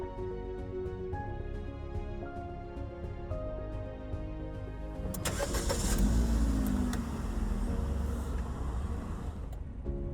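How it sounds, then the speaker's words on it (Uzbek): A car engine cranks and catches about halfway through, rising into a steady idle rumble after a quieter stretch of tonal chiming, with no talk. "Dvigatelni ishga tushiradi."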